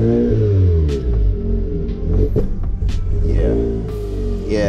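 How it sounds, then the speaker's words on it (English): A Mazda RX8 rotary engine running lean is revved up and down in several loud, wavering bursts, its harmonics rising and falling, with a few sharp clicks and pops. "let's rev it up and see what it acts like"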